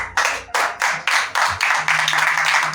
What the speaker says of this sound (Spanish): Dale palmas así